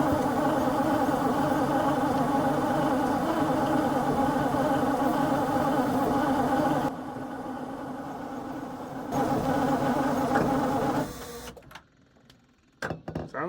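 Old diesel truck engine cranking over with its fuel pump running, a steady dense mechanical churn for several seconds that drops in level, resumes, then cuts out into near quiet with a few clicks.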